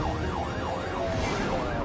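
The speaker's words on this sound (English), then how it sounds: "But instead of stopping for the sirens, Chris takes off in more ways than one." A police siren wails, rising and falling in smooth, regular sweeps over road noise, fairly distant.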